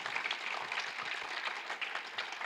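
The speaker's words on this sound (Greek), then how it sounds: "Ένα χειροκρότημα για τη Μαρία." Faint, steady applause from an audience at a Junior Achievement Greece student entrepreneurs event, a distant hiss of many clapping hands lasting a couple of seconds.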